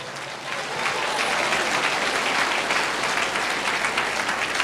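A church congregation breaks into loud, sustained applause that swells after a brief moment and holds steady as a dense wash of many clapping hands, with no talk over it.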